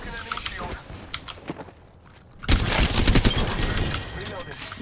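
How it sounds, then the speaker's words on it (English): Shooter video game gunfire: scattered shots and clicks at first, then a loud sustained burst of automatic fire and impacts, close and dense, filling the second half. "Shots fired and they're hitting me."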